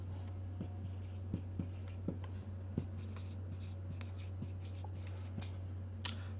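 A pen writing goals down on paper, with light scratchy strokes and small taps spaced every half second or so, close and quiet over a steady low electrical hum.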